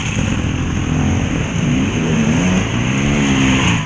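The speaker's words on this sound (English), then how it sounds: "just watch a couple of bikes come past." Off-road enduro dirt bikes race past a trackside spot in the woods, their engines loud and buzzing with rising and falling revs as they pass close by, with no talking.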